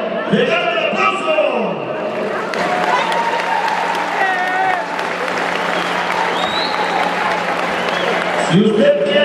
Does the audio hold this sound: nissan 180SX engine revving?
no